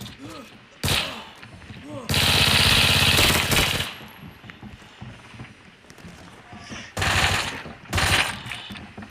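Automatic gunfire in the shooter game Arena Breakout comes in loud, close bursts of rapid shots separated by quieter gaps, with excited players talking between them.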